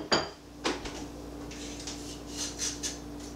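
A spoon stirs an herb mixture in a bowl for herb-roasted cauliflower with lemon and red pepper flakes, giving a sharp clink at the start, another knock, then a few light scraping and tapping sounds, quiet and close.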